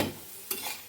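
A paratha fries in a pan, giving a quiet, close sizzle with a brief clink or scrape near the middle and no speech.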